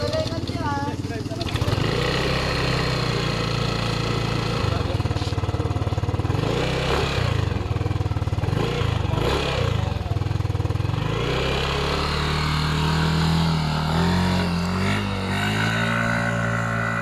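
A Yamaha Aerox scooter's small engine runs steadily throughout during a test run after a rebuild, droning and shifting pitch as it revs slightly, loud and close.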